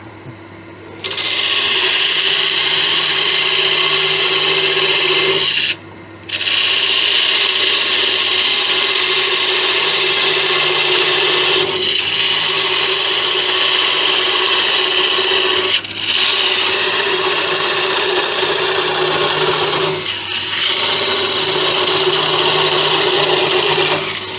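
A woodturning lathe spins at polishing speed while a helix candlestick is worked, producing a steady loud whirring and rubbing drone with a few brief pauses where the contact stops.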